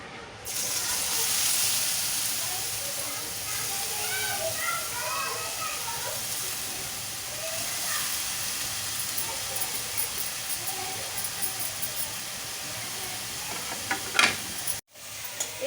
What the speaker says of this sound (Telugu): అదే ప్యాన్లో నేను ఇంకా కొంచెం ఘీ తీసుకుంటున్నాను. అందులో మనం తురుముకున్న క్యారెట్ వేసేద్దాం